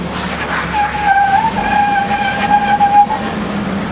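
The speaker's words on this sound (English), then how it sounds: "First gear, low range, rock crawl mode." An off-road 4x4 in first gear, low range and rock crawl mode, without lockers, crawls over rocks. A steady drivetrain whine rises and falls over a low engine rumble, with scraping and tire noise, close and fairly loud.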